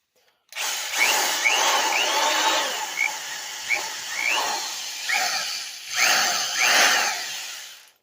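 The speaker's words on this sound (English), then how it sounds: "See, this is a 1200 RPM drill, so it's not a real fast spinner." Vintage Black & Decker 1200 RPM electric drill with a geared-down gearbox, running close up with a steady whirring whine that rises and dips in pitch several times as it spins.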